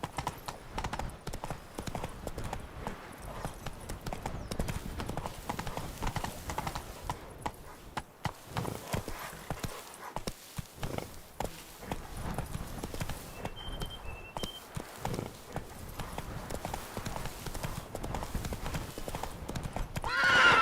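A horse gallops in the video game Witcher 3, giving a steady run of clip-clopping hoofbeats at moderate loudness throughout, with a brief whinny along the way.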